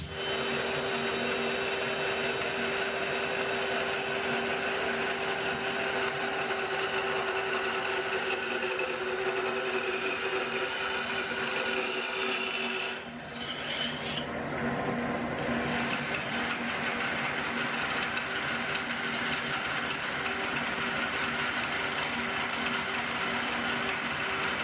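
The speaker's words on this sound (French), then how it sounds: "Je peux faire quelques tests de coupe. Je veux voir si mon moteur va tenir la distance." A homemade XXL band saw driven by a small motor makes test cuts, producing a continuous, fairly quiet mechanical whir that dips briefly midway before running on steadily.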